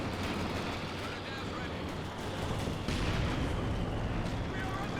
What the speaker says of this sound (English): Rockets.